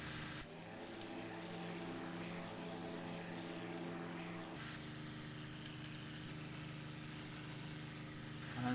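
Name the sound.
aircraft taking off in video game IL-2 Sturmovik 1946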